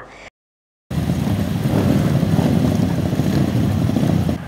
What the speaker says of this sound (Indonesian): Perhelatan adu balap motor dalam event Supermoto Open Championship 2020